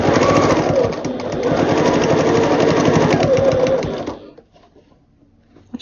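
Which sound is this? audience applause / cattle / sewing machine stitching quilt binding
sewing machine stitching quilt binding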